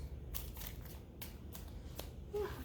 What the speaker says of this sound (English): I'm going to try to shuffle as many cards during this as possible